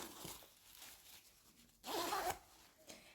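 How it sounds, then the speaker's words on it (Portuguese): A zipper being closed on a sewn skirt with a slit: a few soft, faint rasps, then one louder, brisk zip pull near the end, heard alone at close range. "O zíper tá preso, agora só vou fechar."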